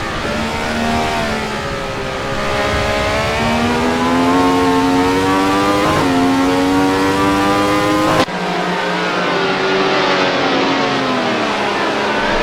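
A Ferrari 312T racing car engine screams at high revs in a racing game at Silverstone, its pitch climbing and shifting through gears, loud and steady throughout with an abrupt cut partway.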